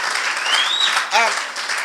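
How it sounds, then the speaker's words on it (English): Health summit audience applauding, a full continuous burst of clapping from a crowd, with a whistle rising through it and a brief voice or cheer breaking in partway. "Let us give a round of applause to all of the men in the room for being here."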